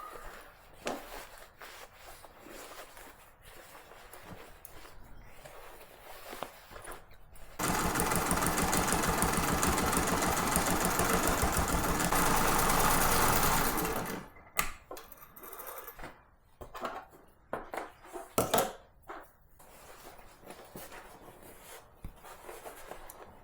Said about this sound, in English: you can go over the stitching once more